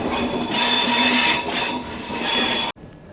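A goods train hauled by five engines rolls through jungle hills near Dudhsagar, a loud close rumble of wagons and wheels with pulsing swells, cutting off abruptly near the end.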